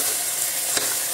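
Mung bean soup with broth being stirred in a pot, a steady close bubbling, sizzling texture with one brief scrape of the spoon partway through.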